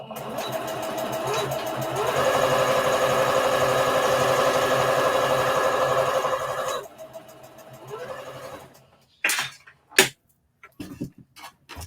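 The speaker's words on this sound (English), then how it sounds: "Leave your fabric down, turn it around, and go back up on the other side, and you're going to back stitch before you start." Sewing machine stitching fabric for an Easter bunny treat bag, a steady close motor whir running for several seconds, then stopping, followed by a few sharp handling clicks and taps.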